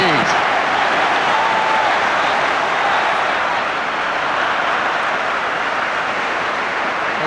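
A football stadium crowd roars loudly and continuously after an Everton goal in the 1999-2000 season, a dense, sustained wall of cheering that holds steady throughout.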